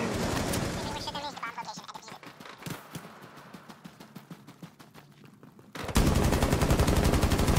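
Video game gunfire, with rapid rattling bursts of automatic shots and single cracks running through most of the stretch, then a loud dense roar near the end.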